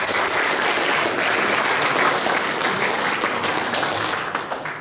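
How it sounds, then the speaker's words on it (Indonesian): An audience at a school thanksgiving ceremony for ninth-grade students at an Islamic junior high school bursts into loud, dense applause that continues steadily before starting to fade at the end. "Tepuk tangan untuk"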